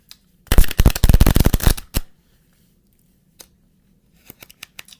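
A deck of playing cards is shuffled during a card trick, a dense riffle burst lasting about a second and a half, then a few faint isolated card snaps and taps.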